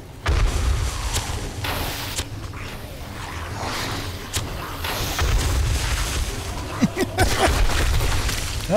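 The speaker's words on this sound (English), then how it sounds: "we got a cop explosion" Cop zombie blowing up in the video game 7 Days to Die, a sequence of booming blasts and sharp impacts over several seconds, with rumbling low end and scattered clatter.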